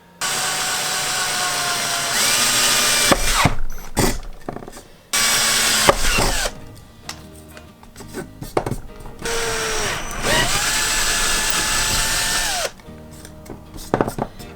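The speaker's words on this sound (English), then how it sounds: "I've started drilling out holes like up here" Several bursts of a power drill whirring and revving up and down, close and loud, drilling holes in a Jango Fett gauntlet prop, separated by brief pauses with small clicks and handling noises.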